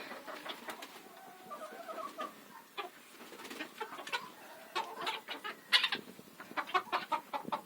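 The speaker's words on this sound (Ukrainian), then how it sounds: "Курочки, бентамочки тут сидять." Bantam chickens clucking nearby, a scatter of short, irregular clucks and soft chatter that grows busier toward the end, fairly quiet in an indoor coop with no speech.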